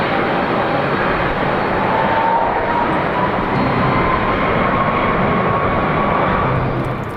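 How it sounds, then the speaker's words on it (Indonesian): Toy airplane giving off a continuous loud, dense whooshing engine roar with a faint steady whine, unbroken and close for several seconds, with no talking. "Wehehe, yang ini pesawat terbang."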